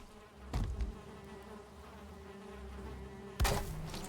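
Bees in the Valheim video game buzz in a steady low drone, with two sharper, louder hits of game sound breaking in.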